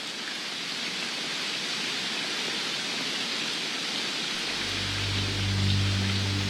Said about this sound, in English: big drops of rain start to fall.